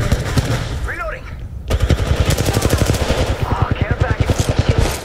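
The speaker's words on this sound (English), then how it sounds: "Reloading." Rapid automatic gunfire from the Apex Legends video game rattles in close, loud bursts, with a brief pause before a long, steady stream of shots, and a voice faintly present underneath.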